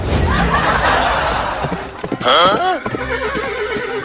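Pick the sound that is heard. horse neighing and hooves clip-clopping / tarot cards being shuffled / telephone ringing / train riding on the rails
horse neighing and hooves clip-clopping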